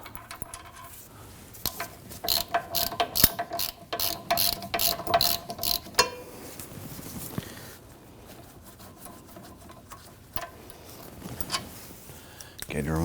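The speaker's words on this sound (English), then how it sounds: "just use your ratchet or your gear wrench, whatever you want, to go ahead, loosen and remove these completely" Ratchet or gear wrench loosening and removing the rear brake dust shield bolts on a 2013-2019 Ford Explorer Interceptor, giving bursts of close, rapid metallic clicking that start and stop, with quieter handling noise between and speech around.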